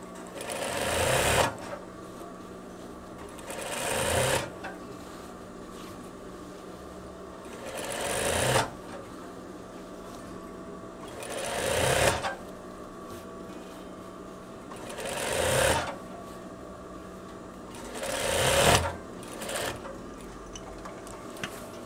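A sewing machine stitches the seam of a veterinary coverall in six bursts a few seconds apart, each run rising and stopping sharply, with a quiet mechanical hum in between and no talking.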